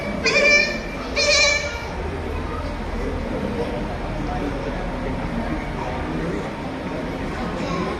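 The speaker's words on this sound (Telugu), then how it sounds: "అవి వస్తున్నారు గొర్రెలు కాచుకొని." Sheep bleat twice early on, fairly close and clear, then the flock fades into a steady outdoor background as a herd is brought along.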